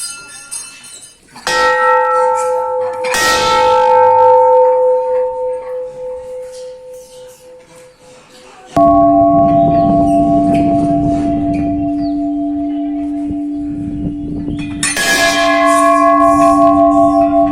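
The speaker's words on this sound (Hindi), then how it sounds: "यहाँ काफी बड़ी बड़ी घंटियां लगी हुई हैं" Large temple bells at a Mahadev shrine in the hills of Pauri, Uttarakhand, are struck four times, each loud, close clang ringing out with a long, shimmering, slowly fading hum.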